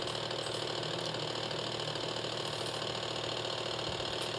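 A bench-test DC motor under increased load, running at about 2300 rpm, gives a steady, continuous mechanical hum and whine with a constant broadband drone, close and even throughout with no voices.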